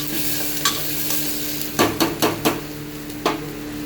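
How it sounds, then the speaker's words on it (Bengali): Potatoes frying in a pan, a spatula stirring with a run of scraping knocks against the pan over a steady close sizzle, with no voices. "আলুটা দিয়ে একটু নাড়াচাড়া করব।"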